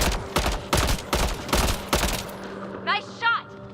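Rapid volleys of gunfire from a sci-fi shooter, Mass Effect: Andromeda, with about six loud sharp bursts in quick succession, then a pause and two shorter whooshing electronic shots near the end.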